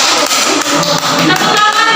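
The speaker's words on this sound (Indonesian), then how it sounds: "Oke, tepuk tangan untuk" Classroom applause for two student groups after a microteaching lesson on the water cycle, a dense steady patter of many hands clapping close by for about two seconds with no talk.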